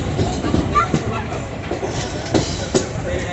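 A passenger train on the Sealdah to Sabroom route rumbles and clatters as it curves a full half-circle on a hill track, with steady rolling noise and faint intermittent squeals.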